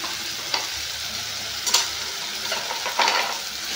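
Tomatoes and salt dropped onto lightly browned onions frying in a pan, a soft steady sizzle broken by several sharp stirring scrapes and clatters of a spoon against the pan, close by, no voices.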